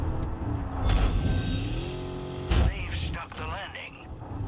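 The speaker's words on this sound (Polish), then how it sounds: "Ale się ślizga ten samochód." A car in the Far Cry 5 video game slides while it drives. The engine rises and falls in revving surges with a sharp burst partway through, under someone talking.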